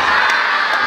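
A crowd shouts and cheers loudly at a live stage event, a dense sustained roar of many voices filling the whole short moment with no single voice standing out.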